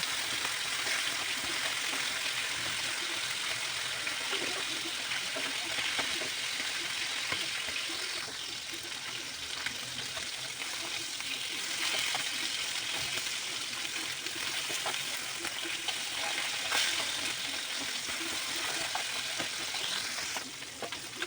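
Rupchanda pomfret fish fries in oil in a pan with a steady, dense sizzle throughout and only faint stirring and crackle changes.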